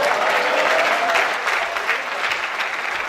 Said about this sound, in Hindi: श्री राम के लिए जितनी तालियां बची हैं उतनी अर्जुन के लिए भी बजाइए।